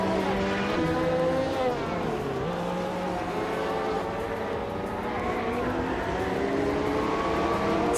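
Race cars in a video game, including a 1998 Lotus Esprit, droning steadily with engines rising and falling through gear changes, several cars overlapping in a continuous loud roar.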